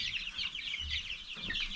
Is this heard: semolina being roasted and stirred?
no